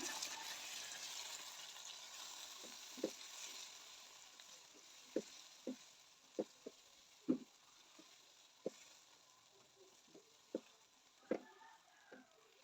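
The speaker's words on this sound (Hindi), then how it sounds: "मसाले की अच्छे से बुनाई करेंगे।" Red chilli powder, coriander powder and whole cumin sizzle in hot oil while frying for an Indian potato bhujia, a soft steady hiss broken by scattered pops and stirring clicks, with no talking.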